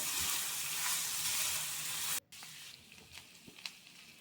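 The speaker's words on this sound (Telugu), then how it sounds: "జింజర్ గార్లిక్ని ఇలా యాడ్ చేసుకొని అవి కొంచెం ఫ్రై చేసుకోవాలి." Ginger and garlic fry in a pan for paneer butter masala, a close, bright sizzle that drops off abruptly midway, followed by quieter sizzling and a few stirring clicks.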